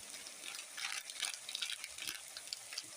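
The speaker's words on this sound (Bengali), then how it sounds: "এই সুন্দর করে নেড়ে দিলাম একবার" Meat with turmeric and cumin powder frying in a pan while being stirred, a faint soft sizzle with light scraping and shuffling, close and quiet.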